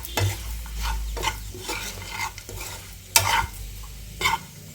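Grated fresh coconut fry seasoned with red chilli powder is stirred in a pan, a soft sizzle running steadily beneath repeated scraping strokes of a spoon, with a few sharper scrapes standing out, no talking.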